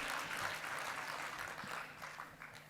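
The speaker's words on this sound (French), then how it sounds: "Vous les applaudissez très fort." Audience applause fills a hall at a women's forum: dense, steady clapping from a large crowd, loud and continuous throughout, with no voices over it.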